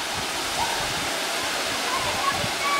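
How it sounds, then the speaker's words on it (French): The Kintampo waterfalls in Ghana give a loud, continuous roar of falling water, a dense, steady wash with no breaks. "Voilà les fameuses chutes de Kintampo."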